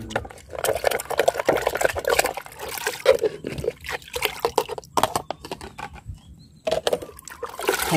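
Beaten egg mixture poured into plain water for a plant fertilizer, giving an uneven liquid trickle and splashing at close range that rises and falls for several seconds with no talk over it.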